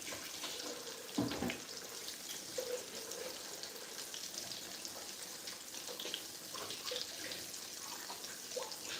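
A kitchen tap runs steadily as hands are rinsed under it during a fish fry, a faint, even splashing with a brief clatter early on and no talking.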